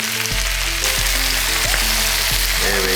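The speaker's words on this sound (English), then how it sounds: "So we wanna blacken the bambino cabbage." Bambino cabbage frying hard in olive oil with dried chilies and a little sugar, a loud, dense crackling sizzle that keeps going steadily, with faint periodic tonal hums underneath.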